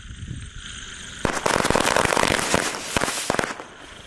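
Red firecrackers lit during Diwali testing burst in a rapid, loud crackling barrage after a quiet start, with dense overlapping pops and bangs for several seconds.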